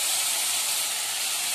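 Fried potatoes tipped into spice paste frying in hot oil give a loud, steady, bright sizzle that holds evenly throughout, close up with no talk.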